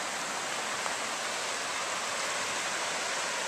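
The flooded West River in Williamsville, swollen the day after Tropical Storm Irene, rushes past in a steady, loud, unbroken roar of flowing water, with no voices.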